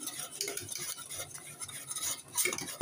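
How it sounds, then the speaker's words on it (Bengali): Semolina being stirred into milk in a pot, soft close scraping and swishing of a spoon with light clinks against the pot, quiet and continuous. "নেড়ে চেড়ে নিচ্ছি সুজিটাকে, দুধের সাথে মিশিয়ে নিচ্ছি।"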